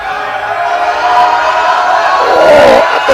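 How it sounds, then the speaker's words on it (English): Crowd at a women's powerlifting world championship cheering and shouting on a lifter during a heavy deadlift, a continuous roar that swells louder toward the end. "Icelanders in the crowd cheering her on."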